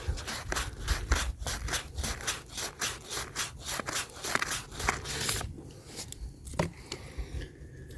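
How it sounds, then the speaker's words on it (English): Close rhythmic scraping of 400-grit sandpaper on the end of a 17-year-old PVC irrigation pipe, quick regular strokes that slow and turn sparser toward the end, no voices. "I'm just sanding on the end."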